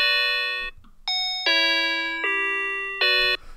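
Chime-like tones from a Disney toy keyboard with the low end cut by EQ, a few bright bell-like notes in a short sequence, thin and clean, sounding alone.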